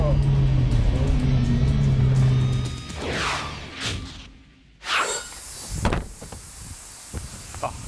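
A small retro front-engine, rear-drive sports car revs and accelerates, its engine note dipping and rising through gear shifts, and then passes by in a whoosh, while people talk over the engine.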